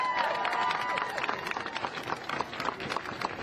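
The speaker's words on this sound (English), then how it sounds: "Give yourselves a round of applause." A protest crowd gathered after painting Black Lives Matter on Jefferson Avenue applauds, a dense patter of many hands clapping at moderate distance, thinning slightly toward the end.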